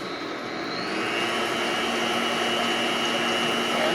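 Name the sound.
stand mixer beating cream cheese and butter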